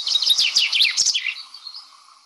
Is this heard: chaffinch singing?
yes